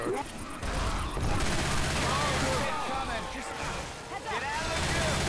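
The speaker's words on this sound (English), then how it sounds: "Can someone stop shooting me, John?" Dense, continuous bursts of rapid gunfire from an AK rifle and other guns in the co-op shooter video game Left 4 Dead 2, loud and sustained throughout, with players' voices mixed in.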